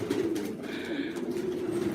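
Pigeons coo softly and continuously among a large flock kept in a loft, a low murmuring burble with faint chirps layered over it and no voices.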